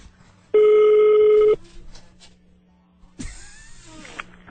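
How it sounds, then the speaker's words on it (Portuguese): A telephone rings during a prank call to a nursing home, one long steady electronic ring tone, then a pause and a second burst starting, loud and clear over a faint background hum. "Vamos ligar pra casa de repouso."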